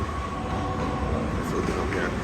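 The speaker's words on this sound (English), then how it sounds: "I got a streetcar going by out there" A low rumbling roar of a passing rail vehicle, like a streetcar, fills the background steadily, moderately distant.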